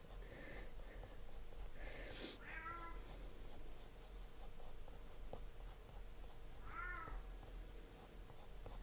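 A house cat meows from a distant room, two or three faint drawn-out cries against quiet room tone and soft pencil scratching.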